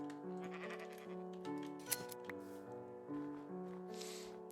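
Minecraft sheep bleating in the video game, several wavering baa calls over steady background game music, moderately loud and close, with no talking.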